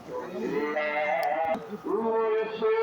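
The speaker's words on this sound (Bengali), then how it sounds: "এই পাশে এই পাশে দুয়া পাশে গরু আছে অনেক গরু" Cattle, including Friesian cows and a calf, call out in drawn-out, nasal bawls, a few overlapping cries close by, one after another with brief gaps.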